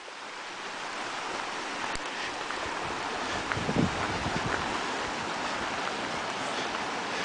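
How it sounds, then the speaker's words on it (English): A rural creek running strongly, a steady broadband rush of flowing water heard from nearby and alone, with occasional faint knocks. "But that creek's running really good right now."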